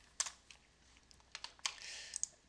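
Computer keyboard typing while renaming a spreadsheet-style column heading in simulation software: a few sharp, quiet key clicks in short irregular bursts, close and alone with no talk.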